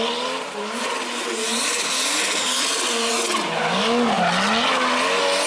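A 1JZ-swapped Jaguar E-Type drift car slides with a long, loud, continuous tire squeal, its pitch wavering and rising as the tires scrub across the pavement, with engine roar running beneath throughout.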